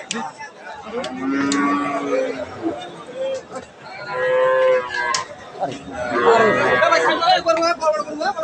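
Pregnant cows low and moo repeatedly amid a crowd's chatter and shouting at Kaharol cattle market, a busy, noisy livestock market scene.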